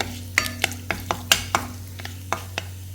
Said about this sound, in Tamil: எண்ணெய் நல்லா காஞ்சோன்னே கடுகு, காய்ந்த மிளகாய்